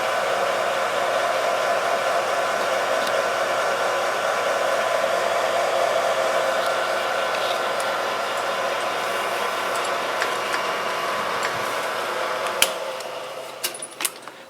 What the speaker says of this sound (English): I needed to bore me a 1-inch hole in this plate so I can center it on the milling table